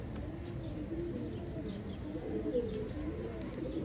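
Tumbler pigeons coo softly and repeatedly against a steady outdoor background, with no talking.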